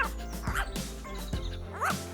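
A small dog gives a few high yips and barks spaced across the moment, over a constant low hum.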